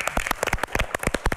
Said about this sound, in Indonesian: kita berikan tepuk tangan yang meriah untuk Kang Gagak